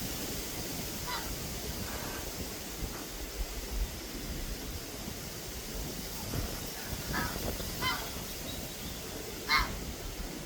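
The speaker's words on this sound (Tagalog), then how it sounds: "Ganda tong gansa guys, maingay." A few honking geese, five birds, call out now and then, faint and somewhat distant, over steady wind noise.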